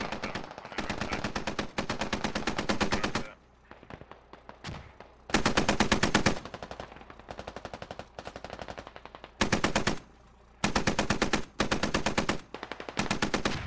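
Sustained bursts of rapid machine-gun fire in the SquadOps video game, long loud volleys separated by brief pauses, with a few shorter rattles near the end.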